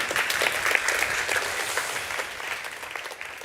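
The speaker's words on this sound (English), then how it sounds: "One more warm applause to that." A conference audience at a World Press Photo masterclass event claps warmly, sustained applause that stays steady and then slowly thins toward the end.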